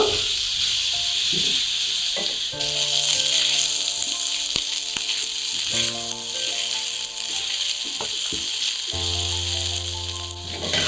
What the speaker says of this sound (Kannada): ಈರುಳ್ಳಿ ಸ್ವಲ್ಪ ಗೋಲ್ಡನ್ ಬ್ರೌನ್ ಕಲರ್ ಬರೋವರೆಗೂ ಹುರ್ಕೋಬೇಕು